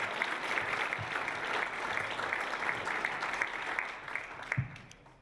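A banquet crowd at a chamber awards gala claps steadily, with a few sharper individual claps near the end before the applause fades out.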